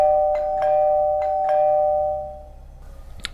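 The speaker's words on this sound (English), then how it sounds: "Then somebody began to ring the doorbell downstairs." A doorbell chimes with a steady sustained tone, struck several times in quick succession, then fades into quiet room sound.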